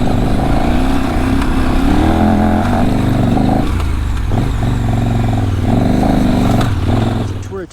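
A KTM 1190 Adventure motorcycle engine with an Akrapovic exhaust rumbles steadily at close range, its pitch rising and falling as the rider throttles up and eases off, with no one speaking.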